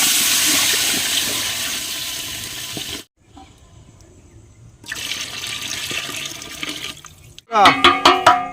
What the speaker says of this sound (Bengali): এবার ভাতের জন্য জলটা দিয়ে দেবো